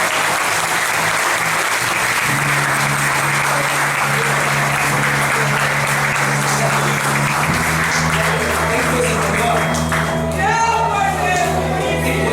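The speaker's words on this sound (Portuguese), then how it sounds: "Você pode aplaudir o Senhor pela vida." A church congregation claps loudly and continuously over sustained organ or keyboard chords, with voices rising near the end.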